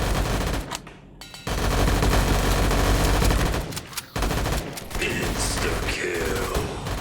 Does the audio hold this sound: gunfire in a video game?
yes